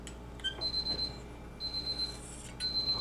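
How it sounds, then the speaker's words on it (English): A kitchen timer goes off during a Texas chicken casserole cook, sounding three bursts of rapid high-pitched electronic beeping separated by short pauses, clear against a quiet room. "My timer telling me it's time to do this right here."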